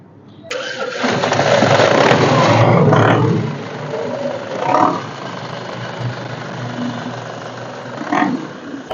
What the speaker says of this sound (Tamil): வண்டியோட இன்ஜின் சவுண்டை பத்தினா கேட்டிருப்பீங்க